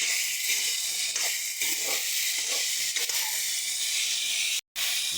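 Chicken fries in a hot pan, a loud steady hiss and sizzle broken by soft scraping as the pieces are stirred and turned, with a brief dropout near the end.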